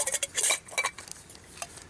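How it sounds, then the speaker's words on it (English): Coleman Max cook kit pots clatter and clink as they are handled, a few quick metallic rattles in the first second, then a softer clink near the end, with no talking. "this is the Coleman Max cook kit, and this is the inside set of pots"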